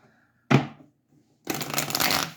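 Tarot and oracle cards are shuffled in two bursts: a short riffle, a pause, then a longer crisp stretch of papery flutter, close and alone.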